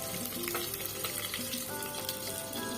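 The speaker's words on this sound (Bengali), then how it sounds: "পেঁয়াজ দিয়ে দিলাম কই মাছ বোনা করবো টমাটো দিয়ে" Koi fish frying with onion in a pan, cooked with tomato, a steady close, loud sizzle with faint stirring scrapes throughout and no talking.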